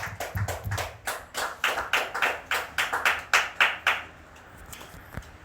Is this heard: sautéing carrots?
no